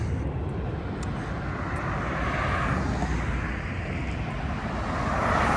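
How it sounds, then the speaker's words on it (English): A private jet with no markings roars overhead near a large airport, a loud, steady, broadband engine rumble that swells slightly toward the end, with no voices. "That's a private jet"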